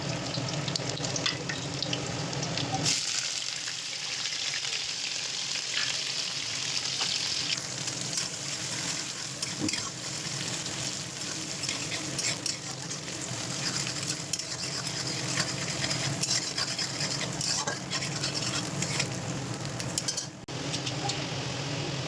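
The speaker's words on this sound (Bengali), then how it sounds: "প্রথমে কড়াইতে তেল গরম করে কালো জিরে, রসুন কুচি, পেঁয়াজ কুচি দিয়ে ভালো করে ভেজে নেব।" Chopped garlic, onion and black cumin sizzle in hot oil in a wok for a Bengali-style bean and potato curry. After a brief pause, a loud, steady close-up frying hiss runs without a break, with no talking.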